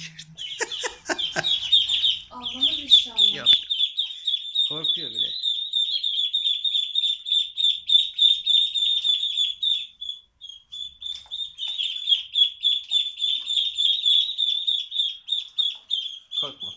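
Continuous high-pitched peeping from several ducklings, rapid and insistent, with a person speaking briefly near the start.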